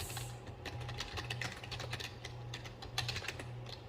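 Rapid, close typing on a computer keyboard, a steady patter of key clicks over a low background hum.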